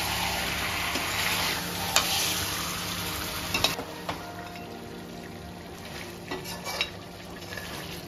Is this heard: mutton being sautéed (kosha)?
yes